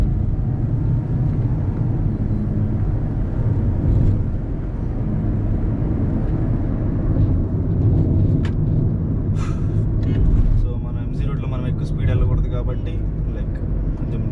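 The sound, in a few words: Mitsubishi Outlander engine after paddle-shift downshift to second gear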